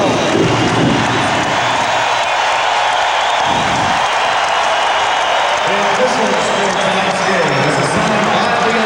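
A basketball arena crowd of more than 17,000 at the 1996 NBA Finals Game 5, Chicago Bulls versus Seattle SuperSonics, keeps up a steady, loud roar and cheer throughout, with a voice speaking over it.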